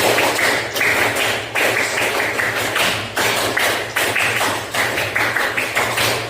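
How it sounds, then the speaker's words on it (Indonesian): Pupils in a classroom clap out the Pramuka scout clap twice through, sounding sharp patterned volleys of group claps in a driving, repeating rhythm, close and loud with no voices. "Dua kali tepuk pramuka."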